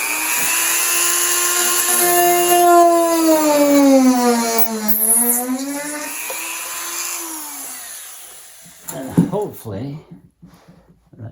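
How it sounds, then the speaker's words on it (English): A conical diamond bit on a small rotary tool drills into the rudder hinge of a model A-6 Intruder, whining loud and close with pitch dipping and rising under load for about eight seconds, then stopping as a voice speaks briefly. "I have this diamond bit, which is conical. It's like a cone, and I'm going to just drill into this."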